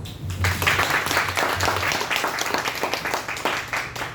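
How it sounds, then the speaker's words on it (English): Audience applause at a Toastmasters club meeting, a round of dense clapping from a room of members lasting several seconds at moderate loudness. "Let's give them a round of applause."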